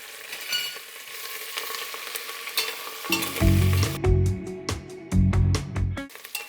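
Curry leaves sizzle and crackle as they fry in hot oil in a pan while pongal is being made. The bursts of frying are loud and close, and they come in waves with no talking.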